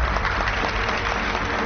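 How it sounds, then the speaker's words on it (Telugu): Dense applause fills a scene from a Telugu action film, with a steady wash of many hands clapping together under crowd noise for under two seconds. "క్లాప్"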